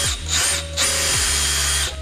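A power tool works on Mazda Miata suspension bushings, whirring loudly and close in repeated spin-ups that rise and fall in pitch across short bursts, with no talk.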